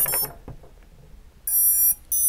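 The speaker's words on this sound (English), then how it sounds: "We got all the beeps." Several bright electronic beeps from a 3-inch whoop drone's ESCs starting up sound in short bursts, a longer tone followed by a quick second chirp, with a faint thump between.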